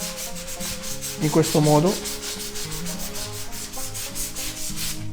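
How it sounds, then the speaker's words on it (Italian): Hand sanding with sandpaper along the milled edge of an epoxy resin table, a steady rhythmic scratchy rubbing in quick strokes, close and fairly loud, with a brief spoken phrase near the end. "Quello si può levare con la carta vetro"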